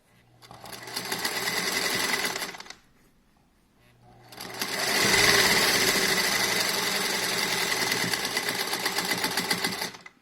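A sewing machine stitches a fabric medical head cover in two runs, a steady close whirring hum for about two seconds, a short pause, then a longer continuous burst of stitching for around six seconds.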